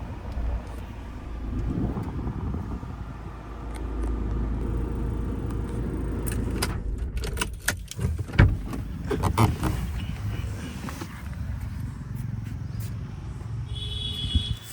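A 2018 Mahindra XUV500 W6 with automatic transmission runs at a steady, low idle rumble, heard close. A few mechanical clicks and knocks sound in the middle, and there is no talking.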